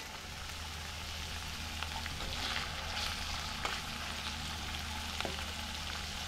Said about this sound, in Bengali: এখন আমি দিয়ে দেবো এই যে টমেটো কুচি করে রাখছিলাম